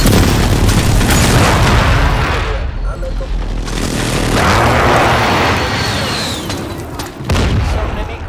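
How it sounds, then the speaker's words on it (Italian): Precision airstrike in Call of Duty Warzone: heavy booming explosions roll and rumble continuously for several seconds, loud and dense, with one more sharp blast near the end. "Bombardamento di precisione in arrivo."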